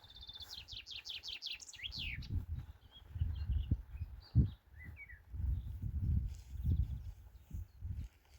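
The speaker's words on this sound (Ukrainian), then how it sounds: "Пташки так співають просто обалденно." Birds chirp and trill in quick high runs, fairly near, beside a river, over a low rumbling outdoor background with occasional soft thuds.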